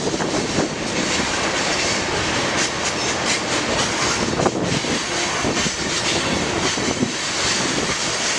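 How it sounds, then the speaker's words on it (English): A coal train with a leading locomotive in an old paint scheme rolls steadily past close by, a loud continuous rumble and wheel clatter with rhythmic clickety-clack on the rails throughout. "A surprise about this coal train"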